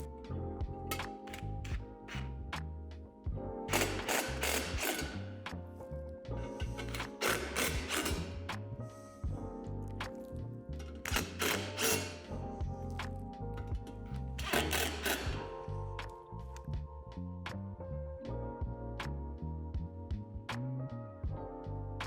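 Hardware being tightened on a basketball rim cover plate during assembly of a Lifetime 54-inch portable Power Lift basketball system, heard as repeated bursts of rapid ratcheting clicks with short pauses between, close and fairly loud over a steady background tone.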